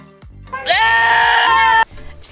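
A small toy goat lets out one long, loud, steady bleat that sustains for about a second, with quieter clicks and handling noises before and after.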